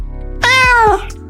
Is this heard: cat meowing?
yes